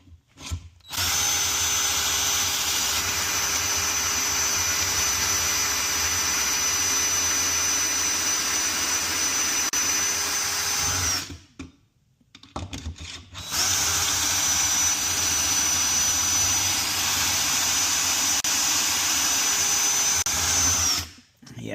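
Power drill boring pocket holes through a Harbor Freight pocket hole jig, a loud high whine running about ten seconds, a short pause, then a second equally long run, close and alone.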